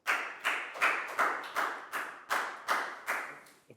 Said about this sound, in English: And a big round of applause for Nadia, guys.